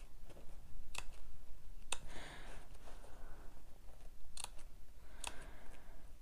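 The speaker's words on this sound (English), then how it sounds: "So I'm just snipping into the seam allowance" Fabric scissors snip into the seam allowance of a bag being sewn, giving several sharp, close clicks spaced a second or so apart over quiet room noise.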